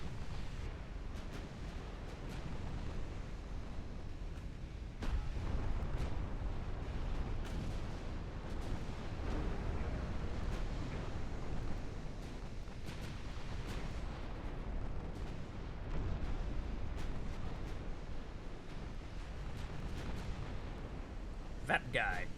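Naval artillery from warships in the Ultimate Admiral Dreadnoughts naval battle game: a steady, heavy low rumble of gunfire and distant shell impacts that runs throughout, with brief sharper cracks near the end.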